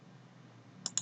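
Two quick, sharp computer mouse clicks close together at the end, following a faint, quiet room hum.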